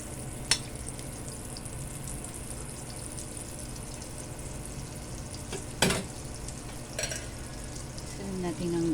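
Butter sizzles and fries steadily in a pan for buttered shrimp, a continuous crackling hiss with a few sharp clinks of utensils near the end.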